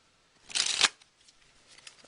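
A quick riffle of playing cards being shuffled, a brief crisp burst followed by a few light card taps.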